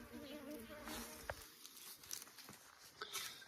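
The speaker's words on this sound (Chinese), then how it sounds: "今天天气好啊，蜜蜂好欢哟，都出来了" Honeybees buzzing outdoors on a sunny day beside hive boxes on a rural farm plot, a steady insect drone with several louder passes as bees fly close by the microphone.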